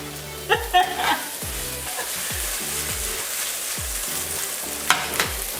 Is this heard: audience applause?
no